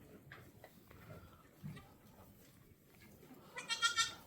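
Boer goat bleating on a farm, a short, fairly close cry near the end after quiet rustling background.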